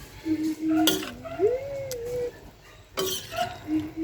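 Sautéed cabbage with fried tofu being stirred in a pan, a couple of sharp utensil scrapes against the metal over a faint low sizzle.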